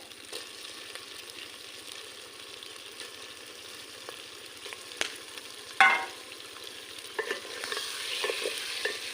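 Mutton pieces frying and being stirred in a pan for a curry, a steady soft sizzle with scraping spoon strokes and a few sharper clicks and clatters, no voices.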